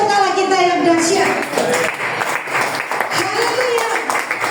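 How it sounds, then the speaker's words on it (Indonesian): A church congregation cheers and claps during a worship service, a steady roar of voices and applause over the whole stretch, with a voice calling out above it. "Sorak-sorai untuk Allah kita yang dahsyat."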